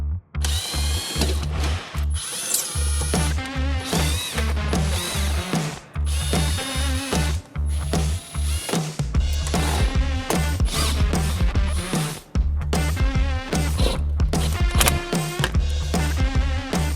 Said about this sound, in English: Then remove the T15 Torx screws on the wheel well liner.